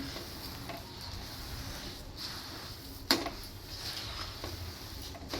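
Sesame seeds being stirred into hot jaggery syrup in a pan for tilgul ladoo, a steady soft scraping and bubbling sizzle with one sharp spoon knock partway through, close and continuous with no talking.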